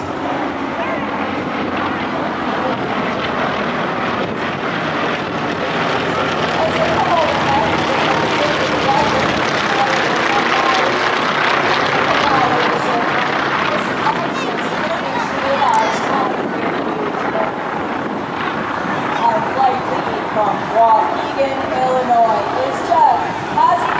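T-28 Trojan aircraft of the Trojan Horseman team fly past at an air show, a broad droning engine roar that swells and fades over a long stretch, with wind buffeting the microphone and voices underneath.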